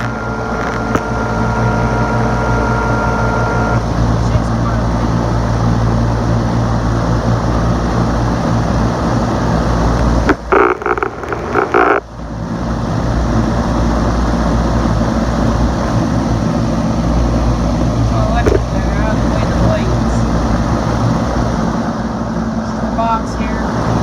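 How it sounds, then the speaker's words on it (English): A large homemade box fan starts up at its combined high speed, a loud steady roaring hum with a brief break partway through before the rushing drone resumes, while someone talks over it. "The high speed we're going to have a startup noise."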